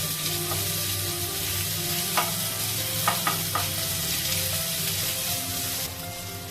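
Mustard seeds, cumin and ginger garlic paste fry in hot oil with a steady close sizzle, broken by a few sharp pops and crackles of spitting seeds.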